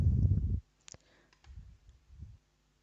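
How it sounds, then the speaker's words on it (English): A computer mouse on a Windows 10 PC gives a quick, crisp double click, faint and close, following a short burst of low sound and set against a quiet background with a soft rumble afterwards. "Double click on the setup file."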